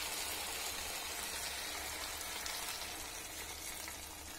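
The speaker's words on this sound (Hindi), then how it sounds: "अब मैं इसमें थोड़ा सा पानी डालूंगी ग्रेवी के लिए।" Chicken curry frying and sizzling steadily in a pan as a little water is poured in for gravy, a dense continuous hiss close by with no talking.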